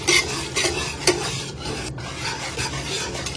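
Batter made with a quarter cup of sifted flour is mixed briskly in a bowl, a close, continuous rasping stir with rhythmic scrapes and one sharper knock, and no speech.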